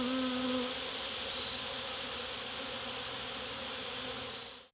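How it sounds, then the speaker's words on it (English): Bees and yellow jackets, including a large queen yellow jacket, buzz loudly and continuously close by, a dense droning swarm that fades out at the very end. "Look at that big old queen yellow jacket."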